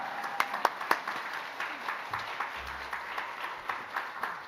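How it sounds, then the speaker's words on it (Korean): A church congregation welcomes a missionary serving Indigenous communities in East Kalimantan, Borneo, with scattered, fairly faint clapping that thins out into sparse individual claps. "선교사님을 기쁘게 큰 박수로 맞이하시겠습니다"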